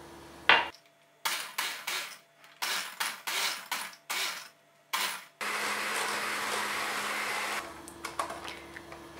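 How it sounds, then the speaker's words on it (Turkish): An electric hand mixer whisks butter and peanut butter, whirring in short repeated bursts with pauses between, then running continuously for a few seconds before stopping and clattering in the bowl. "Mikserle güzelce çırpacağım"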